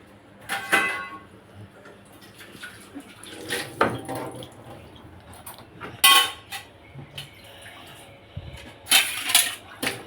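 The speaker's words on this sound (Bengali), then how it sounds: "থালাটা ধুয়ে নিলাম" A plate being washed with water at a kitchen sink: running water with clinks and clatters of dishware in irregular bursts, close and fairly loud, with no talking.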